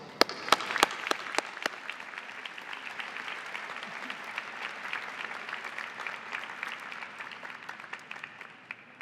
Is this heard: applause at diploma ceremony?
yes